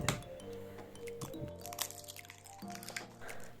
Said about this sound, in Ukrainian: Розбиваємо два яйця